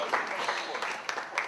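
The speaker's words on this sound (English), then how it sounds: "Big applause for her." Audience applause at an indie soap awards ceremony, a quiet and steady patter of many hands heard under a presenter's voice.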